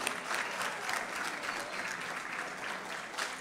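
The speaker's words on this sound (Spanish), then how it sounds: "Le damos otro aplauso bien fuerte." Sustained audience applause at a Spanish-language public event presenting social organizations, a steady dense clapping that stays loud and even for the whole stretch with no voices over it.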